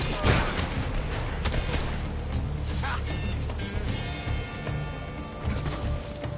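Rapid gunfire from the video game Metal Gear Solid Delta: Snake Eater, with dense overlapping shots and mechanical clatter, played loud and steady under game music and voices shouting throughout.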